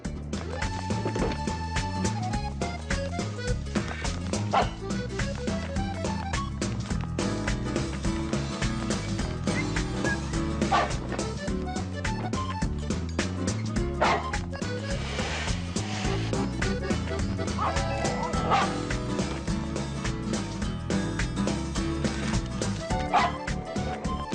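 A small dog yips, barks and whimpers repeatedly in a domestic scene from a TV movie, the sounds close and recurring over a steady bed of background music.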